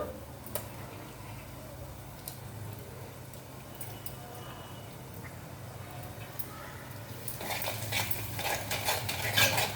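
Egg masala is stirred in a pan, with a spoon giving soft repeated ticking scrapes against the metal; the scraping grows louder and busier toward the end, over a steady background hum.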